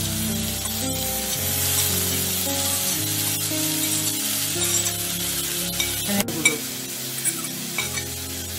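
Tomatoes go into chopped onion, garlic and green chili frying in butter, bringing a continuous close sizzle with stirring scrapes, a sharp clink and a burst of spitting near the end.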